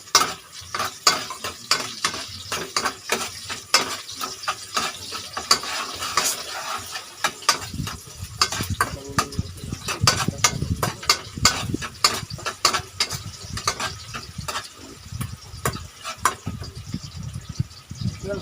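Ginger stirred and sautéing in a pan, with a steady sizzle under repeated scraping and clinking of a utensil against the pan, close and busy throughout.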